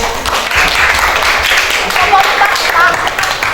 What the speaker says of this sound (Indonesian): Ya, beri tepuk tangan untuk kelompok 1.